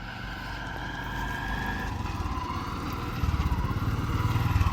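An auto rickshaw engine drones steadily while driving, its low putter growing louder and more pulsing toward the end, with no talking.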